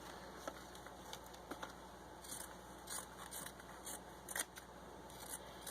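Scissors snipping excess fabric off a sewn gnome hat made from an old sweater, a few faint, close, irregular crisp cuts over low room hiss, with no talking.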